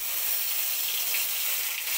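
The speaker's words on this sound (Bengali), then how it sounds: "পেঁয়াজ, আদা, রসুন বাটাটা দিয়ে ভেজে নেব।" Onion, ginger and garlic paste with a green chilli frying in hot oil for a pumpkin and egg curry, giving a steady, close, dense sizzle that holds evenly throughout with no voices.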